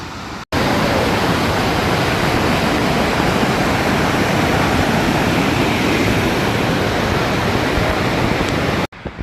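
A waterfall seen from a high viewpoint on a free-entrance nature trail near Chiang Mai gives a steady, loud, broadband rushing roar that holds constant for several seconds before cutting off abruptly.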